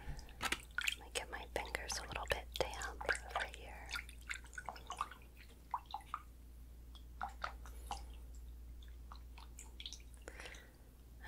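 Hair slicked back with water in a gentle ASMR grooming session: soft, close wet squishes and drips repeat irregularly under quiet whispered talk, with faint moist crackles between strokes.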